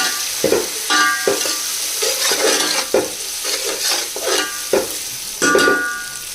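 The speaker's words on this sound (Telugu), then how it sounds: "అల్లం వెల్లుల్లి పేస్ట్ పచ్చి వాసన పోయే వరకు ఫ్రై చేసుకోవాలి" Ginger garlic paste fries in hot oil in a pan with a steady sizzle, while a utensil scrapes and stirs in repeated strokes, nearly one per second, close and fairly loud.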